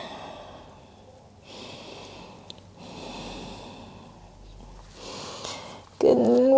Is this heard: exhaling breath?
yes